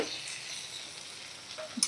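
Raw carrots and potatoes frying in hot oil, a steady broad sizzle throughout, close and even, with a faint clink near the end.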